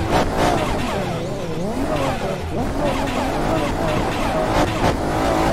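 A drift car in the Assetto Corsa racing game on a tight mountain track, its engine revving up and down continuously and close, with tyres squealing and sliding under the engine note.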